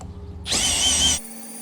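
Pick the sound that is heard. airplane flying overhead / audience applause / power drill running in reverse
power drill running in reverse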